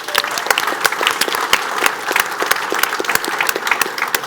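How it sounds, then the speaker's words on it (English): Applause from an audience at the iGaming Next NYC 2022 event for its hosts, a dense, steady clatter of many hands with sharper individual claps standing out, loud and close throughout. "I think it is more than appropriate to offer a round of applause for our hosts at iGaming Next."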